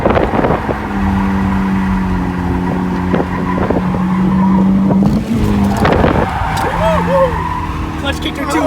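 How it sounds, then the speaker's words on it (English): A BMW E36 drifts on clutch kicks, its tires squealing loudly over a droning engine. The screech pulls steadily, breaks off briefly and then returns with rising squeals, while voices talk over it. "Just roasting tires"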